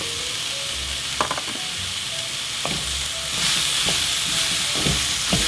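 Peppers sizzle steadily while sweating down in a hot pan for callaloo with bacon, a close, continuous frying hiss with a few light clicks of stirring over it.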